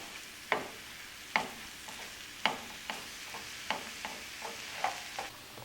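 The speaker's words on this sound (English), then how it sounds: "I'll break down my ground beef." Ground beef browning in a pan while being broken up for stuffed peppers, with a soft steady sizzle under a string of sharp scraping and tapping strokes from a utensil, roughly one per second.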